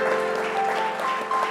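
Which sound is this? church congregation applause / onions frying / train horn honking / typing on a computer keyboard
church congregation applause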